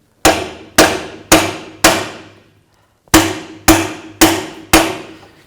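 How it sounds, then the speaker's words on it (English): A hammer taps a new rear axle bearing into place on a 2000-06 Chevy Tahoe, eight sharp metallic strikes in two groups of four with a short pause between, loud and close, with no speech. "Take a hammer, tap it in."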